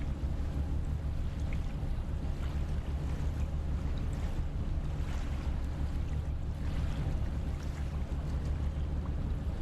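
Boat in the Nautic XP ship simulator reversing toward another vessel's bow: a steady low engine rumble with water wash and wind, constant and unbroken, with no voices.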